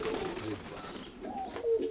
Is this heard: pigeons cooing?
yes